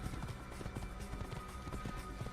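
Horse hooves in the Assassin's Creed video game clop in a quick running rhythm, layered over a dense, faint game soundscape.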